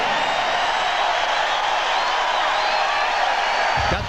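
A college basketball arena crowd at a 1999 Arkansas Razorbacks game against Providence, cheering in a sustained, loud roar that holds steady throughout and tails off at the very end.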